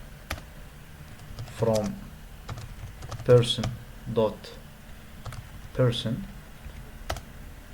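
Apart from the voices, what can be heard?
typing on a computer keyboard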